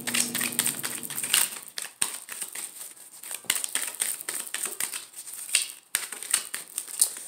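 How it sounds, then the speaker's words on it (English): A deck of tarot cards is shuffled up close in a quiet room, giving a run of quick papery riffles and crisp snaps in uneven bursts with brief pauses between them. "I'm going to shuffle my cards."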